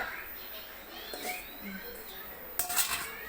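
Kesari stirred in a pan over a medium flame, with a spoon clinking and scraping against the metal in short bursts beneath steady talking.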